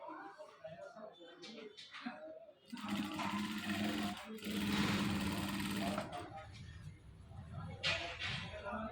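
An electric sewing machine stitches fabric during garment tailoring, its rapid mechanical whir running in bursts with pauses between, close by, with faint hand handling sounds in the gaps.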